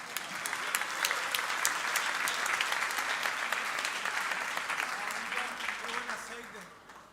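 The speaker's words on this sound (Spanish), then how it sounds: "Le damos un aplauso a Milton" A conference audience applauds in a sustained, even wash of clapping that tapers off at the end, while voices briefly speak underneath.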